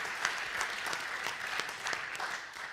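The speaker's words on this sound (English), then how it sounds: "that's probably worth a wee round of applause, I would have thought" A church community gathering gives a warm round of applause for Emma, with steady, moderately loud clapping from a room of people, individual claps audible in the dense, even texture throughout.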